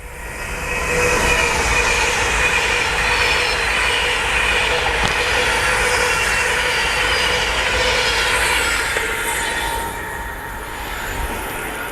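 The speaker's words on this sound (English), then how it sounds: "Go away 10 mile an hour, Pendolino." A Pendolino electric train rolls slowly past a trackside spot at about ten miles an hour, a loud, close, sustained rumble with wheel squeal and rail noise that eases off near the end.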